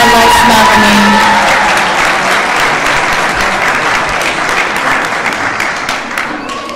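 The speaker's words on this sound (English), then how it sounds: "I probably was supposed to say hold your applause till the last graduate, but it worked out okay." Loud applause fills the hall for graduates at a February 2019 graduation ceremony, a thick wall of clapping and some cheering that starts strong and slowly thins toward the end.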